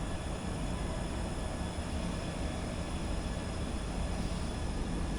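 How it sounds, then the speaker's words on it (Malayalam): Khajuraho Vande Bharat 8-coach train passing near a station, a steady, loud broadband roar of wheels and rail noise held throughout without a break and with no voices. "അതായിരുന്നു ഖജുറാഹോ വന്ദേ ഭാരത് 8 കോച്ചുള്ള ട്രെയിനാണ്."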